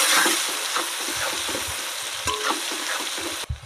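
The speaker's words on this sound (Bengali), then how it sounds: "পেঁয়াজটা একটু ভালো করে ভাজা হোক" Onions frying in hot oil for a chicken curry sizzle loudly and steadily up close, with spatula stirs and scrapes punctuating the hiss before a sudden stop near the end.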